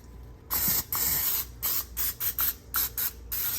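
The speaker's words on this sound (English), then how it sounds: "spray it down real good with some olive oil" Short bursts of hissing olive oil spray onto a glass pan, close and loud, repeated in an uneven rhythm of about eight quick sprays.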